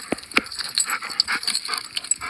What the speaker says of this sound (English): Pretty excited dog.